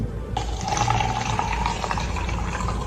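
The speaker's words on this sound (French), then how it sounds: "Alors, nous venons de remplir nos différents verres" Tap water runs and pours into drinking glasses, a steady splashing gush that starts abruptly and keeps flowing, close and fairly loud, with no voices.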